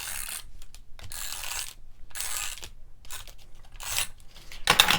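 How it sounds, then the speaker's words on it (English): A tape runner drawn across a card panel during cardmaking, several short, close rasping strokes separated by brief pauses, ending in a sharper clicky burst, with no talking. "I'm just going to run my tape runner across there."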